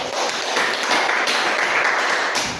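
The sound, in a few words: training audience applauding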